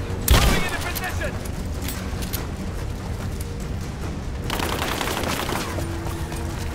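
Sustained gunfire from the video game Rise of the Tomb Raider, a dense crackling fusillade with an opening loud shot, continuous rapid bursts throughout, and a voice speaking briefly amid the shooting.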